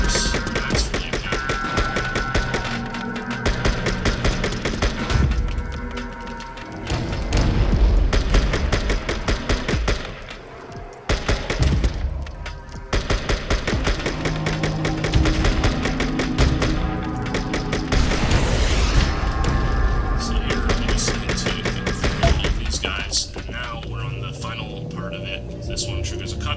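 Rocket launcher explosions and gunfire in the video game Tokyo 42 appear as repeated booms, thuds and bursts of shooting under a continuous music or game soundscape, with a voice talking over much of it.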